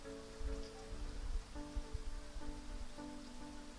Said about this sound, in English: Downpour means heavy rain.